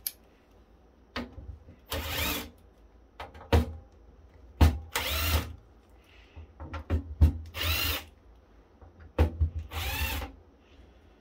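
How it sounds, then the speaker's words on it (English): A power drill removing screws from a Silverstone CW02 computer case whirs in short bursts, several brief spins and four longer runs separated by pauses and small clicks, close and loud. "I'm really lazy and use the drill"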